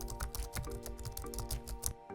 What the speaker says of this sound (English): Everything from just typing on a keyboard